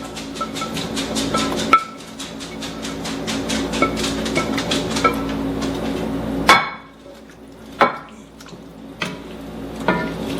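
Russet potatoes tumble into a stew pot of beef and vegetables, giving sharp clunks and splashes at irregular intervals over a steady kitchen background, with several distinct hits in the second half.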